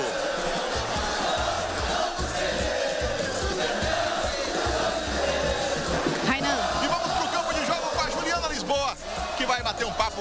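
Vitória football fans celebrate the 2024 Baiano championship title in Imbuí, a dense, loud crowd roar of cheering and chanting that runs steadily throughout with scattered shouts rising out of the mass.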